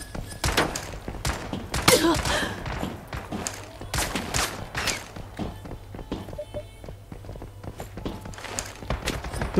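A bot opens fire on the player in an online shooter game, a rapid series of sharp gunshots in irregular bursts, loud and close, with a voice speaking in between.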